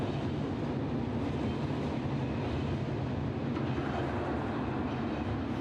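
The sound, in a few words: electric train passing slowly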